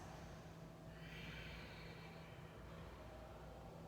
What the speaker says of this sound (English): Try to exhale it out through the nose as you bring the belly to the spine.